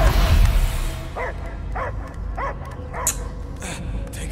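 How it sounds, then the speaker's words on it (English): A dog in Marvel's Guardians of the Galaxy video game barks in a steady run of about five evenly spaced barks, mid-distance, over a dense rumbling game soundscape. "I hear only barking"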